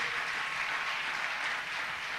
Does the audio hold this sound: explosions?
no